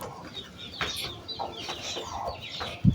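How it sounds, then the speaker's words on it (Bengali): Chickens being raised on a farm cluck and call in short, irregular bursts at close range. A sudden low thump comes at the very end. "এখানে মুরগি পালা হচ্ছে,"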